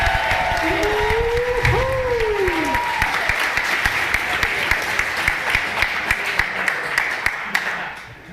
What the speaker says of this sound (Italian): Grossi applausi.